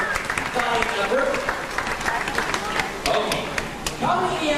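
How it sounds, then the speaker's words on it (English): Scattered clapping from a small audience on a 1998 Panama Canal cruise, loose and uneven, with a few brief vocal sounds mixed in. "Let's give a round of applause to the Henry for her fine effort."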